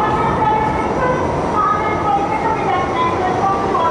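A New York City subway train rolls along with a continuous loud rumble and faint tonal squeals, heard from inside a car.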